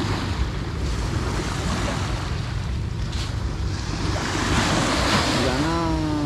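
Strong waves crash on a rocky shore, a continuous loud roar of surf and spray with heavy wind buffeting the microphone, swelling toward the end, and no voices.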